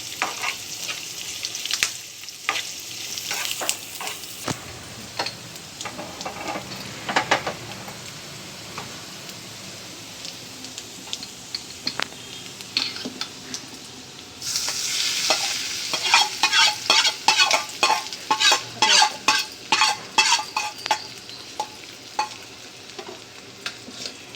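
Oil tempering in a pan for a spinach chutney sizzles and crackles steadily. Frequent sharp ticks and pops grow brighter and busier toward the end, while a utensil stirs and clinks against the pan.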